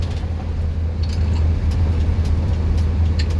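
A six-wheeled truck with a sloped tail drives along a road, its engine giving a steady, loud, continuous rumble with road noise throughout and no pauses.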